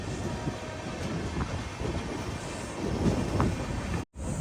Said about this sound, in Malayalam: ട്രെയിനിപ്പോൾ മൻമാഡ് ജംഗ്ഷൻ സ്റ്റേഷനിലേക്ക് എത്തിക്കൊണ്ടിരിക്കുകയാണ്.